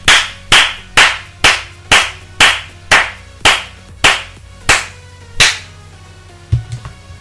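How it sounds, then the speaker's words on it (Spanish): Hands clap sharply and loudly in a slow, steady rhythm, about a dozen single claps, ending in a few quicker, softer claps. "¡Un aplauso!"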